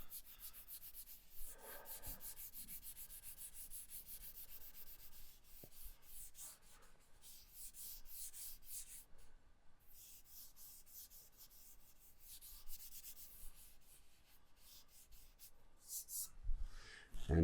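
Powdered charcoal rubbed onto drawing paper, a soft continuous scratchy rubbing at moderate level throughout with no voices.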